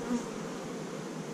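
Honey bees buzz at an apiary during swarm control, a faint, steady, even drone of insect wings with no talk over it.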